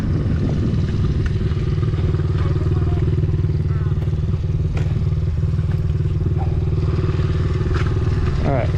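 Honda CRF50 supermoto motorcycle idling steadily and loud up close on a track, a continuous low chugging engine note with a faint clunk as it is put into gear.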